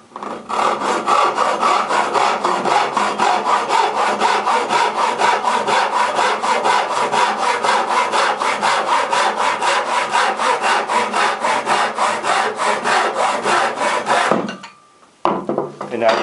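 A hand saw cuts old oak timber in fast, even back-and-forth strokes for a long stretch, then stops abruptly with a brief clunk.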